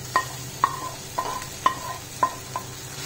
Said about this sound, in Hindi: और इसे अच्छे से मिलाएंगे भूनते हुए।